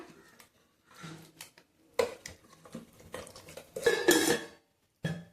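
A spoon stirs mutton curry in a metal pot, producing bursts of clanking and scraping against the pot separated by short pauses, close and distinct with no talking.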